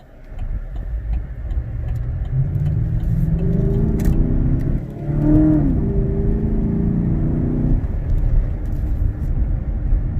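A 2018 Chevrolet Silverado with an aFe Momentum GT intake accelerating on the road, heard from the cab: the engine note rises and swells with revving, then eases, over a steady road rumble.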